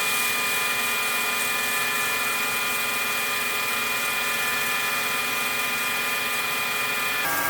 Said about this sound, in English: I'm going to turn the lathe up to 1500 RPM and I'm going to wet sand with these little abrasive pads